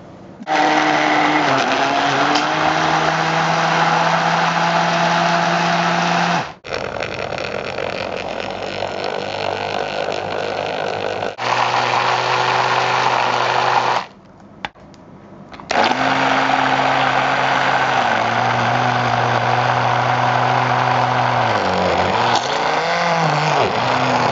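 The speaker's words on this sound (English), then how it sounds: "And use the blender and blend it." A loud electric blender whirs steadily through a tofu cheesecake mixture, its motor pitch shifting as it starts and stops several times, with brief pauses between runs.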